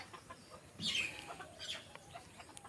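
A domestic country chicken gives a few short clucks close by, one louder burst in the middle over a quiet background.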